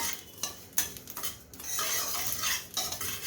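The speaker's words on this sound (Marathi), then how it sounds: "आता खूप असं तडतड करायला लागलं ना तर झाले भाजून" Sesame seeds roast in a hot kadhai for Bhogi til bhakri, with a spoon scraping and clinking against the pan in uneven bursts over a light background crackle.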